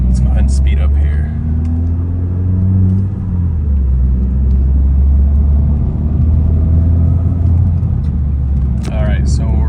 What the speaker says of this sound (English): Let's go ahead and speed up here.